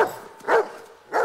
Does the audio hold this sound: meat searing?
no